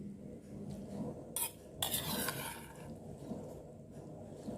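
Ingredients for mok huak, tadpoles mixed with seasonings, tossed together in a bowl, giving faint soft stirring and a couple of brief clinks of utensils against the dish, quiet and close.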